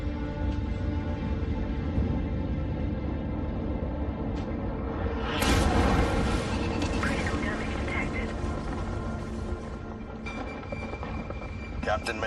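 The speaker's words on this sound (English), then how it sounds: "Incoming airstrike!" Airstrike explosions in MechWarrior 5 burst as a loud, broadband roar at mid-clip, over a constant heavy mech engine rumble with scattered crackling debris afterward.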